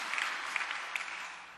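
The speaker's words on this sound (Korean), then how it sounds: "우리 박수로 한번 격려하겠습니다" Applause from a church congregation honoring the choir, a steady wash of clapping held at a moderate, even level throughout, with a few sharper claps standing out.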